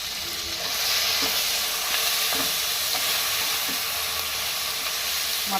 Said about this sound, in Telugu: ఇవన్నీ వేగుతున్నాయి కదా